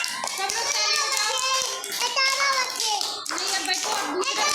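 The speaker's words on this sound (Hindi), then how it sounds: "सब लोग ताली बजाओ" Children clap together in a classroom, steady applause-like claps mixed with kids' voices chattering and chanting throughout, fairly loud and close.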